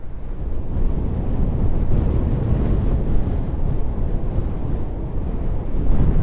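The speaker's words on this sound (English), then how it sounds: "The wind is making this a little inhospitable" Strong wind buffets the microphone in a constant loud roar, with surf faintly mixed into the blustery noise.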